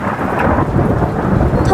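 Heavy rain pours steadily in a cartoon scene of birds sheltering under a tree, with deep rolling thunder mixed into a dense, loud, continuous wash of rainfall.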